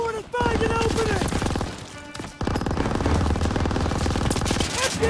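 Rapid machine gun bursts rattle through a Call of Duty WWII battle, loud and dense with a short lull midway, mixed with game music and shouted voices.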